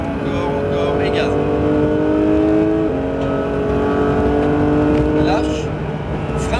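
A Porsche 911 GT3 on the Mirevals race circuit pulls hard through the gears, its engine note climbing steadily, dipping at a shift, then rising again, loud and close throughout.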